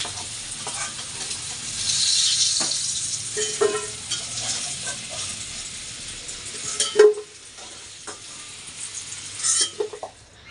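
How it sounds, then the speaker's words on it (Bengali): Lightly parboiled potatoes fry in a pan for cabbage ghonto, a steady hiss of oil broken by several scraping stirs and clinks of a spatula, close up with no speech. "বাঁধাকপির জন্য আলু সামান্য সেদ্ধ করে নিয়েছিলাম এটা ভাজা করে তুলে রাখবো"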